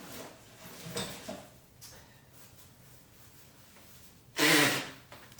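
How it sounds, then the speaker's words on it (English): Quiet breathy sniffs, then one loud, forceful nose blow near the end, close to the mic, with no talking. "Apologies, I've got to blow my nose."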